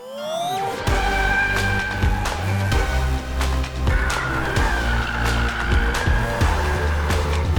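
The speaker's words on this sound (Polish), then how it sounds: "Ma tryb Drift Mode i możecie robić w tym samochodzie to." A VW Golf R drifting in Drift Mode, its engine revving loudly while the tires squeal in long rising and falling bursts, close and continuous.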